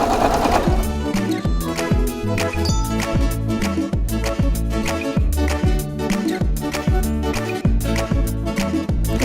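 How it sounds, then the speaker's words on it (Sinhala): A sewing machine runs a steady, rapid line of stitching around the lining of a handmade lunch bag. The motor hums loudly and evenly with a regular rhythm throughout, and no one speaks. "මේ විදිහට වටේට මැෂින් ලයින් එකක් දාගන්නවා"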